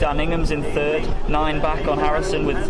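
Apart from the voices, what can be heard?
No distinct noise like a dog, phone or traffic.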